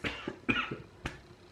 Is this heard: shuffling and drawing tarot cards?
no